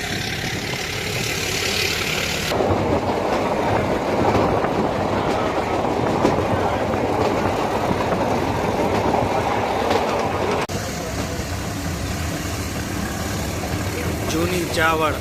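Inside a meter gauge train running from Junagadh to Sasan Gir, wheels and carriage give a loud, continuous rolling rumble with faint rhythmic clatter, steady throughout.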